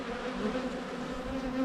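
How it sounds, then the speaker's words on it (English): Bees buzz at a beehive in Antigua, a dense, steady close-up drone of many insects with no talking. "It looks bee. like there's a couple bees all going after the same one."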